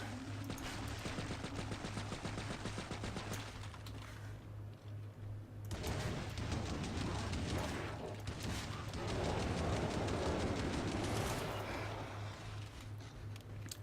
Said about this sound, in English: just going to trigger Zed Time and start shooting at this Scrake.